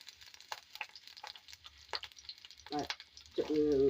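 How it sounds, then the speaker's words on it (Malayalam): Chopped onion sizzles in coconut oil with a close, irregular crackle and stirring scrapes that swell toward the end, where a voice briefly rises over the frying. "കുറച്ച് വെളിച്ചെണ്ണ വെച്ച് കൊടുക്കുക അതിലേക്ക് ഒരു സബോള ചെറുതാക്കി മുറിച്ചിട്ട് അതിട്ട് കൊടുക്കുക"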